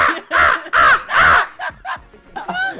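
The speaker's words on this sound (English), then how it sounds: "Oh, and this is where instead of a seagull, you do the crow" Series of loud, close crow caws from an emote in the survival game Project Winter, several harsh calls in quick succession followed by a few shorter ones.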